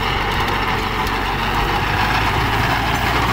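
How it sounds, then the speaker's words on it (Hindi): A Kubota 45 HP tractor runs an 8-foot rotavator with a steady, loud, low engine drone and churning rumble that holds unbroken throughout, with no talking. "दूसरे का लो 45 HP ट्रैक्टर, 8 फुट रोटावेटर"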